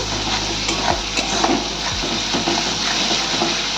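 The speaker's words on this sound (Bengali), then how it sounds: "আমার মশলাটা প্রায় কষে এসছে" Spice masala fries in a pan with a steady close sizzle, while a spatula scrapes and stirs it in a few distinct strokes over the hiss of the oil.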